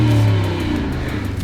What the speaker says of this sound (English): So this is a 4-liter twin turbo V8